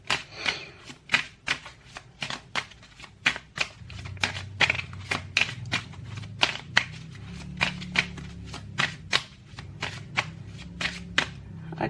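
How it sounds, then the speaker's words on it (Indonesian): A tarot deck is shuffled by hand in a quick run of sharp riffling snaps and soft slaps, close and crisp, with a low murmur underneath. "aku shuffle kartunya"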